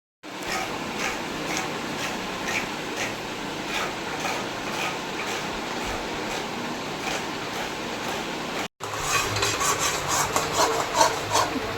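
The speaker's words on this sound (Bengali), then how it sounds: "এইভাবে তালটাকে নাড়তে হবে, নাতে তলায় লেগে যাবে।" Palm fruit pulp being stirred in a pan for palm sweet laddu, a continuous rough scraping and rubbing of the utensil against the pan, steady and close, with a brief break near the end.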